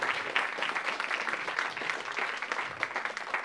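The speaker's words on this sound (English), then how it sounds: "Yes, please clap." Applause from the audience at a screenwriting festival panel, a steady, moderately distant wash of many hands clapping with no speech over it.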